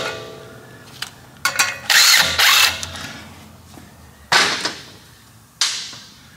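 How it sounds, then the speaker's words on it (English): Several short bursts of an impact gun or ratchet driving a bolt through a rotor on a Mazda CX-9 rear brake, whirring and rattling with brief pauses between, close and loud. "You're just gonna go ahead and just drive this bolt all the way through"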